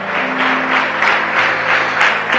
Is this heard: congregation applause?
yes